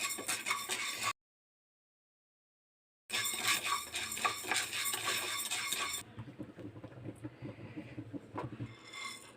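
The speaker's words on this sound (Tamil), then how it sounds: "அதே பாத்திரத்தில் கொஞ்சம் உளுந்து போட்டுக்கோங்க. இதையும் நல்லா வறுத்து விடுங்க." Urad dal is stirred and roasted in a metal pan for sesame chutney, giving steady scraping and clinking of a spoon against the pan. A short silent gap breaks it, then quieter rattling follows.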